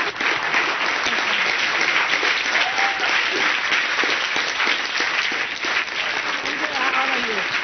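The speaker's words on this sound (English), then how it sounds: "Please stand and give another round of applause for all our guests." A large audience gives a standing round of applause for guests at a spiritual gathering, dense and steady clapping that fills the hall at full volume for the whole stretch, with faint voices mixed underneath.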